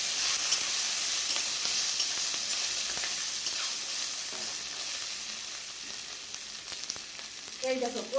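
Hilsa fish head and taro leaves sizzle steadily in a hot frying pan while being stirred, a continuous close frying hiss with faint scraping, no talk.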